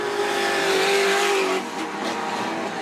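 Outlaw sedan race cars roar past at speed on a speedway oval during an Australian title race night, a loud sustained engine drone with a brief tire squeal that eases into quieter, distant engine noise.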